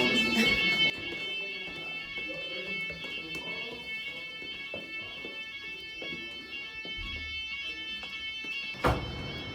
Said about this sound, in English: some alarm just went off in the hotel